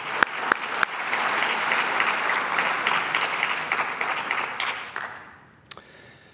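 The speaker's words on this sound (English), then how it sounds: "I'd like to give Kathy a round of applause and her staff for all that they do" Audience at a synagogue conversation event applauding Kathy and her staff, a dense, steady round of clapping that holds for several seconds, then fades out with a few last scattered claps.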